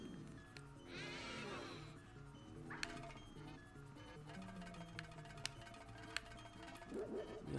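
A horse in a Luigi's Mansion hack video game lets out a brief wavering neigh, followed by quieter game sounds with scattered sharp clicks, all faint.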